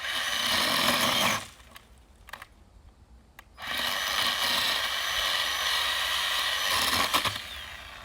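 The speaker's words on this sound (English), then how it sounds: "This is a battery operated chainsaw." A battery chainsaw whines loudly as it cuts wood close by, pausing briefly for a couple of seconds before resuming steady cutting.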